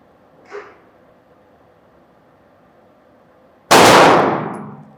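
A single loud, sharp shot from a handgun carried for everyday use and fitted with an SRO red-dot sight, close by and echoing away after a quiet stretch with a faint clink earlier.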